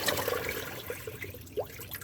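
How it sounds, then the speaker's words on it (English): Water from a betta fish bowl is poured down a sink drain, a brief soft trickling and splashing stream that fades into gurgling, close and moderately quiet. "loosen up any nasty particles, pour it back down the drain"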